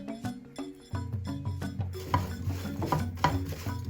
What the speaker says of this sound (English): So I like to stir it around after I put each ingredient in to make sure it gets through to all parts of the pot